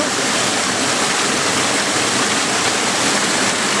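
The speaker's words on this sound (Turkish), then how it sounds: "Tam da suyun aktığı yere doğru geldim." Aladağ Küp Waterfall in Adana, Turkey, a steady loud rush of falling water heard up close, dense and unbroken, with no voices.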